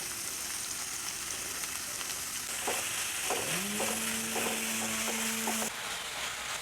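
Sliced onions frying in a pan for a Lay's chips curry, a steady broadband sizzle with brief stirring clatters partway through and a faint tonal hum in the background; no talking.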